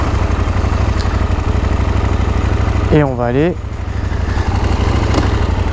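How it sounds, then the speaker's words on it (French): A KTM 890 SMT motorcycle's engine idles steadily up close with a low, even throb, and a brief starter-like whine rises and falls midway while someone speaks over it. "On va commencer par démarrer la moto."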